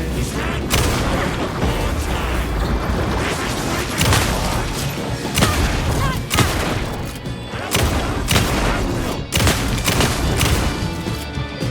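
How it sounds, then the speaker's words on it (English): Repeated heavy gunshots from Alan Wake 2's Night Springs, each a loud booming blast every second or two over a dense, continuous game soundscape. "Ah, le tengo que disparar."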